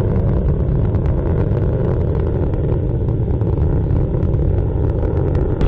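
The solid rocket motors of a Delta II launching the Phoenix Mars lander roar as a continuous, dense, heavy rumble, loud and unbroken, with no voices.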